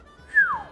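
A single short whistle in the video game Octopath Traveler II, a clear falling tone lasting under half a second.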